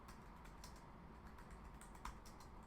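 Fingers tap quickly and evenly on a computer keyboard while a new programming project is set up, a soft continuous patter of keystrokes heard faintly and alone.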